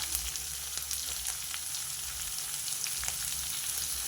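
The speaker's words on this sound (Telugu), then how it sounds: "ఉల్లిపాయలు కొంచెం వేగాలండి ఉల్లిపాయలు వేగడం కోసం కొంచెం ఉప్పు వేసుకుంటా" Onions sizzle in a pan after salt is added, a continuous close, even frying crackle with faint scattered pops and a low steady hum beneath, no voices.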